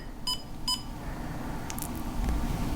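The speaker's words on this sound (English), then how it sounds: "So now it gave us some audible beeps." A Digitrax DT602 model railway throttle gives two short, bright electronic beeps in quick succession, followed by faint clicks and handling noise in a quiet room.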